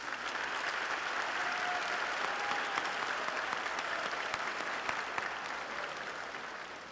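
A high school graduation audience breaks into sustained applause, dense clapping from a large crowd holding steady for several seconds before easing slightly at the end.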